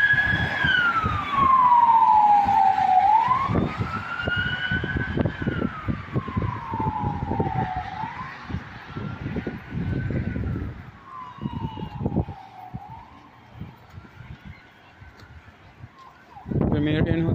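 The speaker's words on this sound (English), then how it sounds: "I can hear some sound of siren. I don't know if it is a police" A police car siren wails on an empty street in Brent, near Wembley Park in London, at Christmas. The tone rises and falls steadily and stays moderately loud over traffic rumble for most of the stretch.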